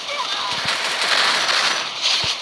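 Rapid gunfire crackles in a video game, a quick burst of several close shots over a dense noisy background.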